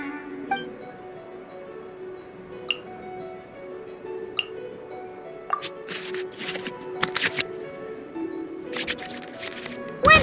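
Digital cards in the Genius Invokation card game of Genshin Impact being shuffled back into the draw pile: soft, faint chimes and small clicks at first, then bursts of rapid riffling whooshes over a quiet tonal background.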